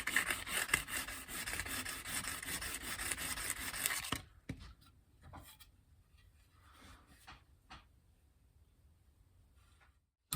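Fine sandpaper rubs against a wooden cigar box guitar neck, a steady, close, scratchy hiss for a few seconds, then a few quieter scattered strokes.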